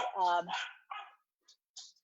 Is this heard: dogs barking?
yes